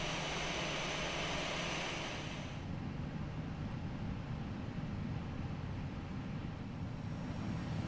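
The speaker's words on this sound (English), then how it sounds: "We are adding some thrust to start up the taxi" Airbus A320 jet engines spooling up for taxi in a flight simulator, a steady broadband roar with a high whine that drops away partway through, leaving a continuous low rumble.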